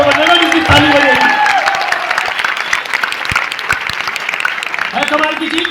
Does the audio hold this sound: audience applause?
yes